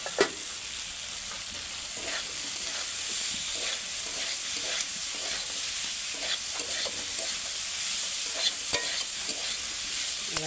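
Bottle gourd stems are stirred into a frying spice paste, a constant sizzle punctuated by regular scraping strokes of a spatula against the pan, near and steady, with no one speaking.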